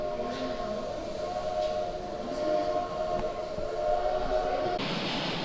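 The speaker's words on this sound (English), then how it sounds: "And here comes a train." A train rumbles along with a sustained whistle tone held over the rolling noise, fairly distant and steady, ending with a shift in the sound, near the Archway in Kearney, Nebraska.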